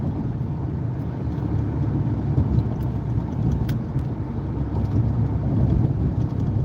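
A car accelerates gradually on a road during a driving lesson, with a steady, low engine and tire hum from inside the cabin that swells slightly toward the end.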